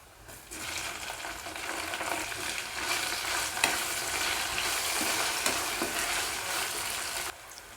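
Boiled bitter gourd stirred into a sizzling onion tempering in a pan, a steady dense sizzle with scraping spatula strokes throughout, close and fairly loud, cutting off near the end.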